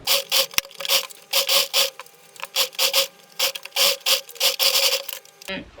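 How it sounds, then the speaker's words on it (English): A sewing machine stitches a high-low peplum circle blouse with a regular stitch in short, rhythmic whirring bursts separated by brief pauses, ending with a small clunk. "I'm going to go sew it with a regular stitch"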